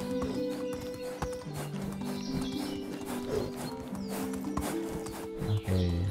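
Donkey hooves clip-clop in the medieval farming game Medieval Dynasty, a steady walking rhythm of hoof strikes heard close and fairly loud over constant game music, with no talking.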